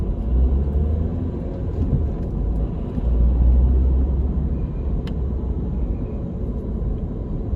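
A low-slung car easing slowly over a high road bump, its engine and tyres producing a steady low rumble from inside the cabin, swelling briefly midway as it crosses.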